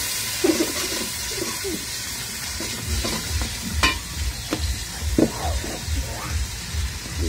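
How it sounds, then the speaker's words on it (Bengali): Khichuri cooks in a pot and is stirred, giving a steady sizzling hiss broken by repeated scraping knocks from a spoon. A low rumble sits underneath. "এখন আবার নাড়া দেবে।"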